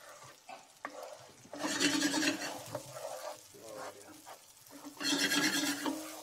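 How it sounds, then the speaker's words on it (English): Rice in a hot pan with a splash of added wine is stirred, scraping and sizzling in two louder bursts separated by a quieter pause, close and alone. "Give that a nice little stir."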